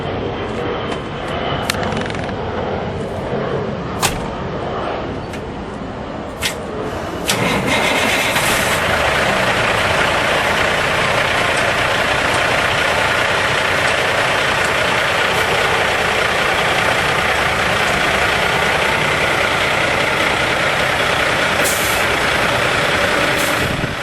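Semi truck with trailer starting off, heavy diesel engine rising into a loud sustained roar after a few clanks and hissy air-brake bursts, close by with no talking.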